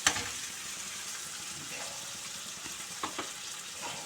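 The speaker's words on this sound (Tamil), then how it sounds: "இப்போது இன்னும் கொஞ்சம் வதக்க எடுத்தோமா தக்காளி எந்த அளவுக்கு வதங்குதோ அந்த அளவுக்கு டேஸ்ட் அதிகம்" Onions and tomatoes sautéing in a pan for varagu rice upma give a steady close sizzle, with a few faint stirring scrapes near the end.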